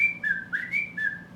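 Three short whistled notes, the middle one sliding upward, imitating a pintail duck's call with no talking.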